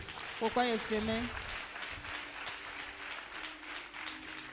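A church congregation applauding during a sermon, with a broad, steady wash of clapping under a voice speaking at the start.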